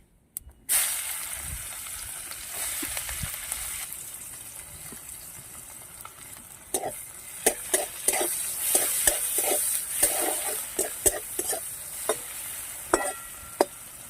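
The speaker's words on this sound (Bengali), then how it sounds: "কুচনো পেঁয়াজগুলো দিয়ে দিচ্ছি তেলের মধ্যে" Chopped onions hit hot oil already holding cumin seeds and dried chilli, setting off a steady loud sizzle, with sharp spoon scrapes and stirring clicks in the second half.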